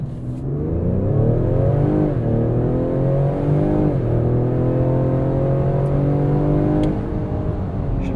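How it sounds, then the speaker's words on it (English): A 2021 Ford Explorer ST revs up for a launch-control start and pulls hard, the engine note climbing through gears with a brief dip at a shift, loud and steady from inside the cabin, no talking. "Let's do a launch controlled start here."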